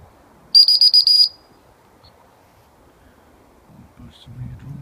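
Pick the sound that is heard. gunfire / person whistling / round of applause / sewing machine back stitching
person whistling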